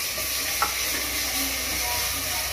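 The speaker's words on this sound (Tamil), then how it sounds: "அந்த இஞ்சி பூண்டு இது பச்சை வாசனை போற வரைக்கும் வதக்கணும்" Ginger garlic paste frying with golden-brown onions in a pan for vegetable biryani, a steady soft sizzle with a faint stir or scrape partway through, no voices.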